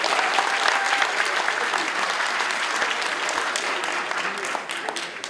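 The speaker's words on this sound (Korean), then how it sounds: "신원식 박사님을 큰 박수로 맞아주시기 바랍니다" Dense, sustained applause from a large audience in a National Assembly conference hall, welcoming a speaker to the podium; steady clapping fills the whole stretch and thins slightly at the end.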